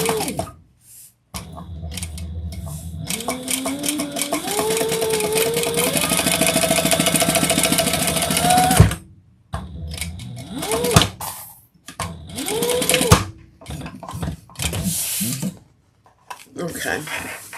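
A sewing machine runs in quick bursts, stitching back and forth on a passport holder, with rapid rhythmic whirring and pauses between runs; someone talks over and between the stitching.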